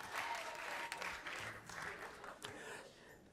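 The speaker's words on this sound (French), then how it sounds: "On applaudit Miradi." Audience applause at a gospel music talent show semi-final, a dense steady wash of many hands clapping at moderate volume that tapers slightly toward the end, with no voices over it.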